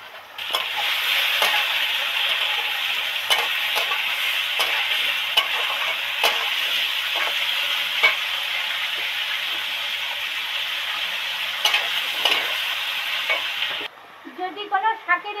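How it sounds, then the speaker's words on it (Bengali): Cut potato and tomato drop into hot oil with panch phoron and dried chilli, sizzling loudly and steadily with occasional stirring scrapes, then the frying cuts off abruptly near the end. "এবার এর মধ্যে এই টুকরো করা আলু আর টমেটোটা দিয়ে দেব"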